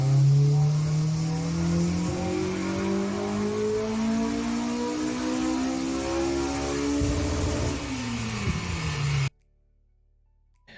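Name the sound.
Honda car engine revving, audible switch-over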